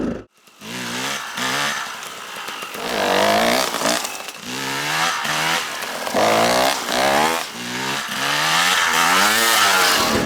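A motorcycle engine revs hard and repeatedly during wheelie practice, loud and close, with rising and falling throttle pulls in a steady rhythm of bursts throughout.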